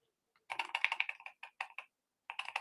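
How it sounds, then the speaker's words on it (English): Rapid keystrokes on a computer keyboard come in two close bursts of crisp clicks separated by a short pause, heard alone with no voices. "my keyboard has decided to stop working"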